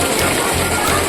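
A heavy downpour at Rajkot Fort in Malvan splashes and patters loudly on nearby surfaces in a continuous wet rush, with a faint murmur of voices beneath.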